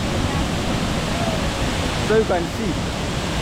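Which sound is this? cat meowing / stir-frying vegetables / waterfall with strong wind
waterfall with strong wind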